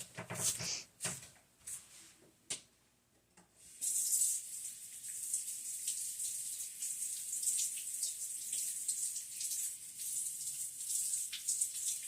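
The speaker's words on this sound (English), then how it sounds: "I just got to go rinse my hands after doing that" Kitchen tap turns on and runs steadily as hands are rinsed after shaping a cheese ball, preceded by a few knocks and handling sounds, water hissing close and continuous.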